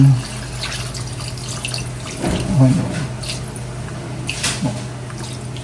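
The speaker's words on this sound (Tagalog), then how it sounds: "Lagyan po natin ito ng tubig." Water splashes and trickles into a pan of frying pork in short bursts over a steady background hiss.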